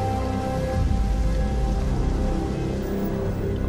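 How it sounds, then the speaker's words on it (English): Steady rain falls, a soft continuous patter with a constant low hum underneath, and no voices. "Oh, now it's raining."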